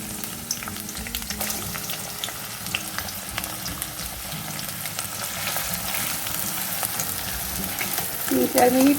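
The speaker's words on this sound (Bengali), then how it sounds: "হাই ফ্লেমে আমার বেরেস্তা ভাজা অলমোস্ট হয়ে এসছে" Thinly sliced onions for birista fry in hot oil over a high flame, giving a steady, dense sizzle close by with occasional stirring scrapes and a brief clatter at the end.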